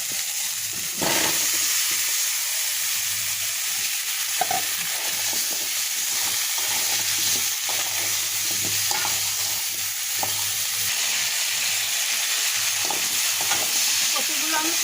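Steady loud sizzling of taro frying in spiced oil, with occasional stirring scrapes and clatter throughout; no talking.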